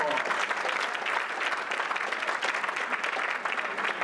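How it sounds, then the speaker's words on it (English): Steady, dense applause from a breakfast audience honoring the men of Alpha Lambda Chapter, loud and continuous throughout with no talk over it. "They deserve a round of applause."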